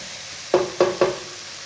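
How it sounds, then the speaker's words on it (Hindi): Tomatoes frying in a pan are stirred in three quick scraping strokes about a quarter second apart, each stroke followed by a brief sizzle over a low hiss. "टमाटर को मैंने 2 मिनट तक भून लिया।"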